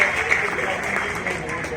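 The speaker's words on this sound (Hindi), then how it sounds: "जोर से ताली बजाओ" An audience claps at a district-level school science exhibition, a steady wash of applause lasting under two seconds while a voice speaks over it.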